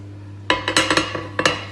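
Pizza dough tipped from a pan onto a hot cast iron skillet, giving a quick cluster of sharp metallic clanks and knocks over a steady low hum, close up with no talking.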